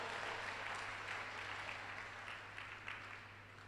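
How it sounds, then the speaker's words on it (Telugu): A church congregation at a Christian sermon in Guntur claps together in a quiet, continuous patter over a low steady hum, faint and distant, tapering off slightly near the end. "కొట్టు చప్పట్లు ఒకసారి కొట్టు."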